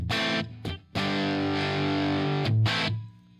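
Electric guitar, a 1950s-style Junior, played through heavy gain distortion: a few short chopped chords, then a long sustained gritty chord that rings and fades, with no talking.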